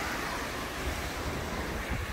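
Ocean waves break and wash onto the beach at Itamaracá in a steady, broad roar of surf, with wind buffeting the microphone and no voices.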